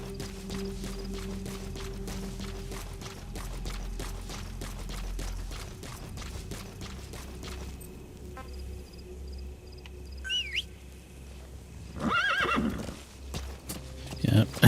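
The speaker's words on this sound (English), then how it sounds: "Phantom horse." Phantom horse in a video game whinnying loudly alongside steady clip-clopping hooves, with game music and a voice speaking over parts of it.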